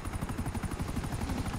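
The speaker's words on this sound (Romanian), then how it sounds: "vine un elicopter" Helicopter rotor thumping in a video game, a fast steady pulsing chop with a whining high tone, fairly loud and continuous over a brief moment.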